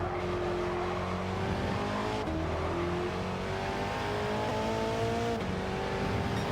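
A Porsche 917 race car in Gran Turismo at Lago Maggiore roars at high revs, its engine pitch rising and dipping through two gear shifts, loud and continuous with no voices.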